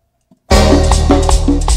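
A marimba orchestra from San Isidro Olintepeque, Quetzaltenango plays quebradita, beginning abruptly after brief silence with loud, full bass, steady rhythmic chords and bright mallet notes repeating in a lively pulse.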